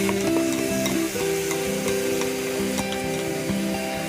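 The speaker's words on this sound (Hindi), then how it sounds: "अब इसमें मैं टमाटर का पेस्ट डाल दूंगी" Tomato paste goes into a frying masala for street-style kata kat, giving a continuous close sizzle with stirring scrapes over a faint steady tonal background.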